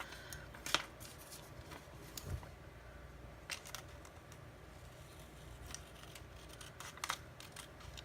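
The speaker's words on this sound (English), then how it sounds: "So I'm definitely going to have to cut it to fit. Okay, so let's cut this." Scissors snip a planner sticker to size in a few soft, sparse clicks against a quiet room background, faint and close.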